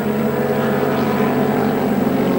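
Suzuki racing motorcycles at the Bol d'Or endurance race at Le Castellet scream past in a steady, loud, continuous engine drone that holds level throughout with no gaps.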